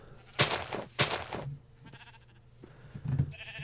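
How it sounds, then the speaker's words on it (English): Several sheep bleat in a Minecraft modpack farm scene, two loud close bleats early followed by fainter calls and quiet game ambience. "There's lots of sheep and cows, and all the sheep are all completely random colours"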